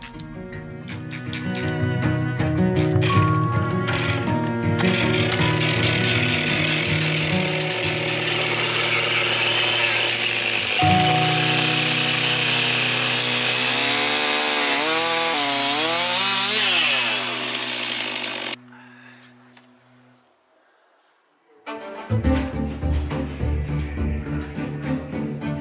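A chainsaw roars as it cuts a round wood cookie from a tree trunk, the engine revving loud and steady for several seconds, then dropping to idle, briefly going quiet and roaring back up.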